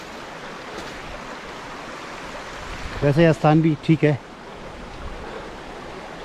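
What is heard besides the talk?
Himalayan river flowing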